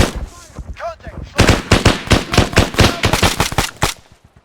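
Rapid bursts of automatic gunfire crack in ArmA 3 combat, loud and close in a dense rhythmic string after a short burst of shouting.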